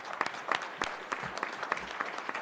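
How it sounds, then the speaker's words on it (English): Audience applause at a school district board meeting, a steady patter of many hands clapping at moderate volume throughout the short stretch, with no voices over it. "Please give everybody a round of applause."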